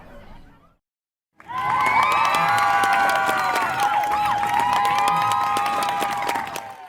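Crowd cheering and applauding at a concert in a video game event story, a loud burst of clapping, whoops and shouts rising after a short silence and holding steady to the end.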